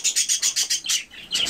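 Newly unboxed budgerigars, including mutation Japones birds, chirp in a quick run of bright, sharp calls close by, about eight bursts in steady rhythm with a short pause before a final one.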